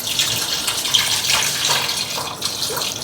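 About one and a half cups of water poured into a pot of tamarind fish curry, a steady close splashing gush that continues for a few seconds.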